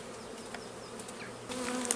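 Honey bees buzz steadily around a hive during colony merging, with a dense close drone of many wings and individual bees passing near, no talking.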